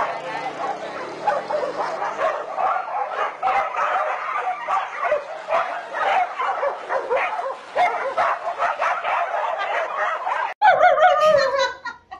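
Dogs bark in a lively home setting, with barks popping up now and then beneath steady close conversation among several people, ending in a brief louder burst.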